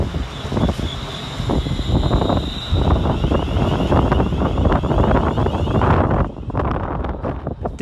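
An electric passenger train, class 350, rumbles and roars close by as it pulls into Stafford railway station, a steady heavy mechanical noise with wind buffeting, then easing slightly near the end.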